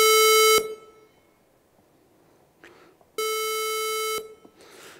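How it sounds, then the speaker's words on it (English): Synthesized square wave tone from a Ruby-coded oscillator, two loud buzzy bursts of about half a second and one second separated by near silence, with a faint rustle between. "So you can create a square wave by creating an oscillator"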